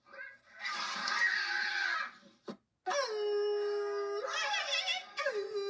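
A dog howls in long, wavering tones, loud and close, rising and falling through several drawn-out wails with a brief pause midway.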